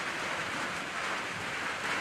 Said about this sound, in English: Hear that rain hitting the tin roof on top of the deck?